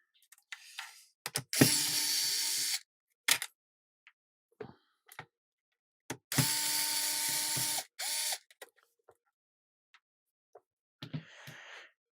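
Screws being removed from a Neo Geo AES console, with several sustained whirring bursts of an electric screwdriver separated by small clicks and handling taps, close and fairly quiet.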